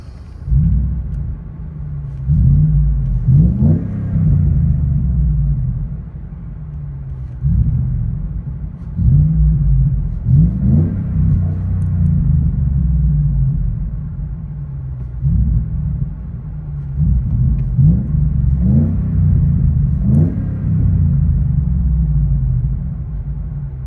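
A 2014 Ford F-150 with a 5.0L V8 and a 22-inch Magnaflow muffler, heard from inside the cab, gives a deep, steady exhaust rumble that swells in repeated revs roughly every few seconds, with no one talking.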